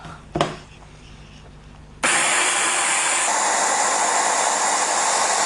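A blender starts up abruptly and whirs loudly and steadily, blending a warm, liquid tofu pudding mixture, after a brief knock and a quiet stretch.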